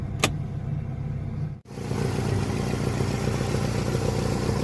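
A 1995 Toyota RAV4 engine idling at about 1000 RPM with the bonnet up, a steady close mid-pitched hum after a brief click and momentary dropout, no talk.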